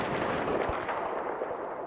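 Faint gunfire from the video game Battlefield 3 during a U.S. Marines mission in Iraq: a short run of muffled shots and rapid bursts under a steady background wash.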